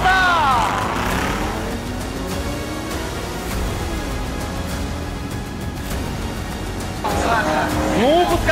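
Cars revving at the staging line and launching in a drag race between an AMG E63s, Corvette Z06, tuned Audi S4 and tuned BMW 340i: loud sustained engine roar with rising revs, then a fresh surge of acceleration near the end.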